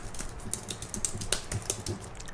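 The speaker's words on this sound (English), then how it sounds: "For the next questions, I will be typing them down. I have my keyboard here with me." Steady ASMR typing on a computer keyboard, with quick, close, crisp key clicks in an irregular rhythm and no voice.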